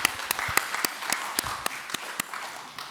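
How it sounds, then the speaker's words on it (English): Sparse, fairly quiet applause from a conference audience after a microbiology session talk, with distinct individual claps standing out at a regular pace over a soft wash of other hands. "please join me for another round of applause for her last talk in English"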